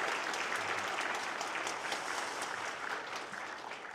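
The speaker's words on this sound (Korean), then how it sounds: "우리 수고한 광릉숲 오케스트라에게도 감사의 박수를 좀" A church congregation at Sunday worship gives thanks with warm applause for the Gwangneung Forest orchestra, even clapping that holds steady for four seconds and eases slightly at the end.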